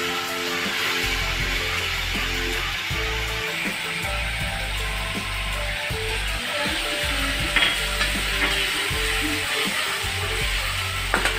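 Sauce hits hot oil in a pan of egg manchurian, setting off a loud continuous sizzle while a utensil stirs and scrapes the food, close up and steady throughout, with no talking.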